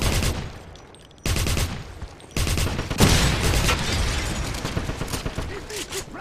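Game combat from Wolfenstein (2009) on PC: a grenade blast among rapid bursts of gunfire, loud and close, with clattering mechanical noise in between and brief shouted voices over the fighting.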